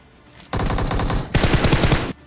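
Automatic gunfire from PUBG Mobile comes as two loud, rapid bursts of close shots, each lasting under a second, with a brief pause between them.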